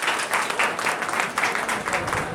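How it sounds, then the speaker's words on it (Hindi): Crowd applause welcomes a police superintendent at an honour ceremony in Jaynagar, a steady wash of many hands clapping with rhythmic surges, fairly close and loud. "एक बार फिर जोरदार तालियों के साथ स्वागत किया जाए"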